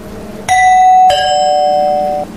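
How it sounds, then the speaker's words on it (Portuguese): A doorbell chimes a clear two-note ding-dong, loud and close, with the second tone ringing out and fading before stopping. "Foi nesse exato momento que a campainha tocou."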